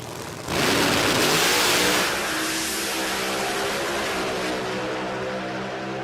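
Supercharged pro mod drag racing car launching down the track, a huge close roar that peaks at the start and then settles into a sustained high-revving blare as it pulls away.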